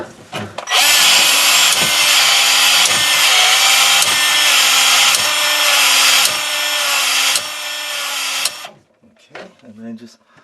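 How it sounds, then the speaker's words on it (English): A power PEX expander tool works a pipe end for a frost proof faucet with a loud, steady whining drone and small rhythmic pulses; it stops after about eight seconds, leaving quieter clicks and a brief voice. "Now to put the expander on."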